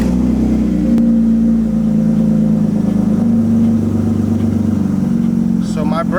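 A BMW E36 engine idles steadily with a low, rumbling hum throughout, a brief higher whine rising near the end, the car in neutral.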